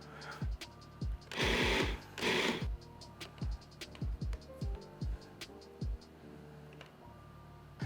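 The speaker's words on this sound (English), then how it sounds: "I'll let it pulse a little bit more so it kneads it a bit and comes together into a solid dough" A food processor pulses vegan pasta dough into a solid ball, giving repeated short motor bursts with thumping knocks as the dough is thrown around the bowl. Two longer whirs come early on, then the short pulses follow at an uneven rhythm.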